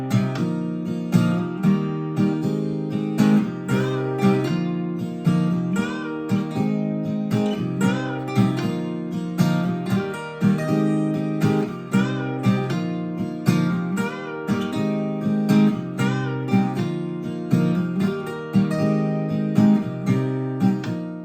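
Acoustic guitar plays the lead solo from the song, a steady run of plucked notes and strummed chords with a regular rhythm. It sounds close and moderately quiet, with no one talking.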